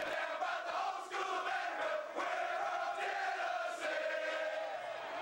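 Tennessee football stadium crowd roaring during a Southeastern Conference championship push, a dense sustained wall of cheering voices with swelling shouts, loud and continuous.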